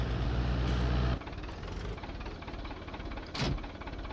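A tractor engine in Farming Simulator 19 runs as a steady, dense rumble that drops slightly in loudness after the first second, with a short sharp burst of noise near the end.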